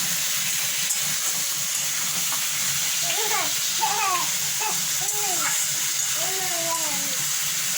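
Masala frying in a pan with potatoes, a dense continuous hiss and sizzle held at steady loudness throughout, with brief bird-like chirps partway through and no clear speech.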